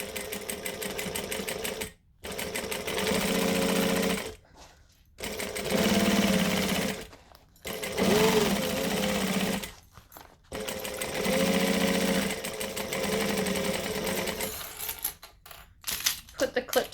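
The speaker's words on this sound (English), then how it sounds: "we can just stitch all the way around. So I'm going to stitch." Close-up sewing machine stitching all the way around a project at joining stitch length, running in long steady bursts separated by short silent stops, loud and alone.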